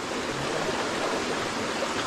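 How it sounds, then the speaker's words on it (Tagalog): Water from a natural spring flows steadily outdoors, a dense continuous rushing wash at moderate level with no breaks. "Yan ay panay bukal."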